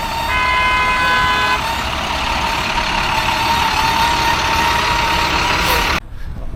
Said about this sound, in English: I hear the buses going.